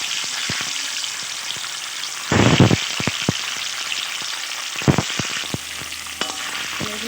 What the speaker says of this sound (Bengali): এবার পনিরগুলো দিয়ে ভেজে নেব।